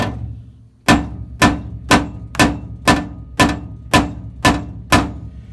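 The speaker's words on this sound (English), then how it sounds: "I'm going to take this body hammer" Nine sharp metallic taps from a body hammer on a 1968 Ford Fairlane 500 fender, evenly spaced about half a second apart, loud and close.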